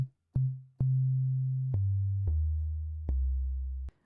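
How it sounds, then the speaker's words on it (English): A deep, thick 808-style sine-wave bass synth plays a sequence of sustained low notes, each starting with a sharp click and stepping down in pitch. "I'm going to go for a nice thick 808 style bass"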